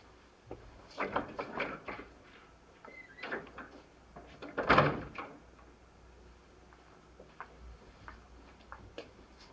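Several soft knocks and clicks, like a door being opened and shut, with a louder thud near the middle against a quiet room.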